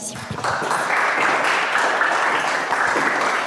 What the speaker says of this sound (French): Veuillez applaudir pour mademoiselle Syrnia Irmalal.